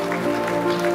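Brief burst of audience applause in a studio setting, a steady wash of clapping over a low, sustained humming tone.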